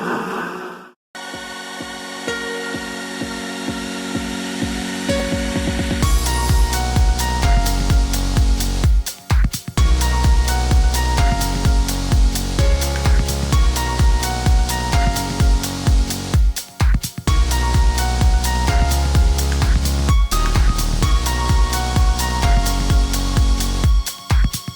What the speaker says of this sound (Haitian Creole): OK, moi parti pour deuxième blender